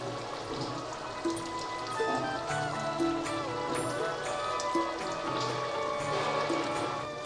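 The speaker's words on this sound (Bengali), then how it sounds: "ঝোলটাকে ভালো করে ফুটিয়ে নিয়েছি। এবারে মাছগুলো দিয়ে দিচ্ছি।" Small hilsa pieces go into a boiling fish broth with potatoes and eggplant, the bubbling liquid making a steady, close patter and gurgle throughout.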